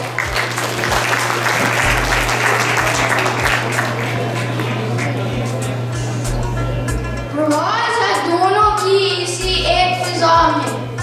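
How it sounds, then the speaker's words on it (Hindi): Audience applause at an Iqbal Day poetry programme welcoming a child reciter, moderately loud clapping through the first half before fading as a voice begins speaking, with a steady electrical hum underneath. "तो इनको बहुत सारी तालियों के साथ"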